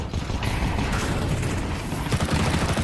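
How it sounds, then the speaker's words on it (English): Gunfire in a competitive Counter-Strike match, a few shots fired through smoke amid dense game mechanism clatter and steady loud ambience, with no clear voices. "it's a couple of shots through the smoke and Brolin finds yellow"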